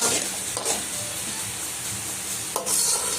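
A spoon stirs cheesy creamy pasta in a pan, a steady scraping swish over a soft sizzle, with a couple of brief clinks against the pan and no voices.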